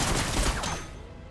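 Necron Tomb Blades firing in Warhammer Battlesector, a dense rapid burst of energy gunfire that rattles loudly for under a second, then trails off into a fading echo.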